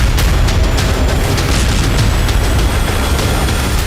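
Explosions from Israeli air strikes or artillery across Syria, a dense, continuous low rumble of booms with sharp bursts, loud and sustained throughout without any voices.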